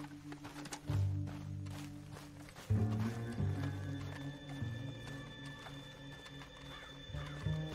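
Horse whinnying with clopping hooves in the Western video game Red Dead Redemption 2. Loud bursts of neighing and hoof steps rise and fall over a steady tonal background, with no talking.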